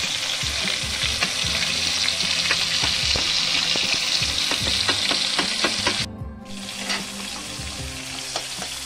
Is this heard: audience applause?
no